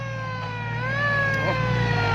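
A siren sounds on a show car at a Thai car gathering. It is a loud, steady, layered wail that rises slightly and then eases back, over a constant low engine hum, with no talking.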